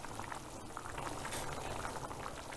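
Rice and lentils boil hard in an uncovered pot, a dense continuous bubbling and rolling close by, steady throughout with no talk.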